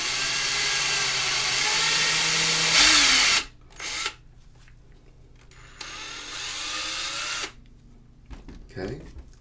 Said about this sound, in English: So go ahead and just drill the hole.